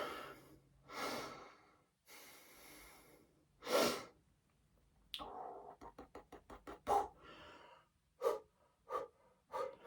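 Heavy, labored breathing after a set of home bodyweight exercise: loud gasping exhales and snorts come in uneven bursts, then quicken into a run of short panting breaths, close to the mic with no talking.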